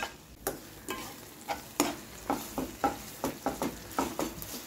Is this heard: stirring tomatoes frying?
yes